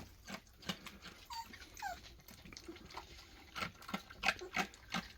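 A small black puppy gives a series of short, sharp yips and whiny barks in quick irregular bursts, close by and fairly quiet.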